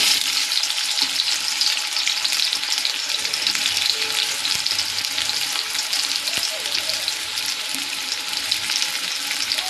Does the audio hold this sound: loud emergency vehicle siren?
no